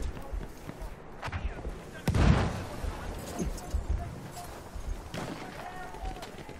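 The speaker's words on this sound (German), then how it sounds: "der holt mich wieder mit einem Schuss weg." Gunfire in the video game Battlefield 1, with a few sharp shots and a heavier blast in the middle, surrounded by game noise and voices.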